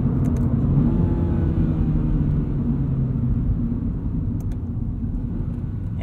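Cabin sound of a 2022 Subaru BRZ Premium automatic with speaker engine-sound enhancement, a loud, somewhat digital-sounding steady low engine drone and rumble that holds constant throughout, with no talk.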